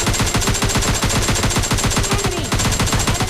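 Automatic gunfire from the mobile shooter PUBG Mobile Lite during a rush: loud, rapid, evenly spaced shots fire in a continuous burst for the whole stretch.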